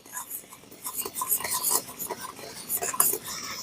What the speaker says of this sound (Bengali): আর অনবরত এইভাবে নাড়ছি